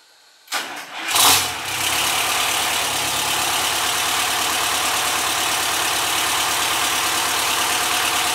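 GMC Astro cabover truck with an 8V-71 two-stroke diesel cranking briefly, firing up with a loud roar, then settling into a steady, dense, rumbling idle close by with no talking.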